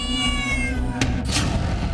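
A cat in a room lets out a single drawn-out meow, close and fairly loud, over a constant low droning background.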